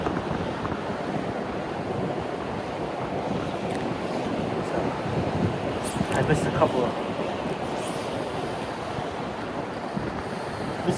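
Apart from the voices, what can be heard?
wind and choppy river water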